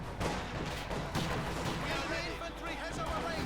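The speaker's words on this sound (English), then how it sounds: "got heavy mortar going into the building" Heavy mortar fire in Company of Heroes 2 pounds a building, with dense booms and crashes rolling together under continuous game noise throughout.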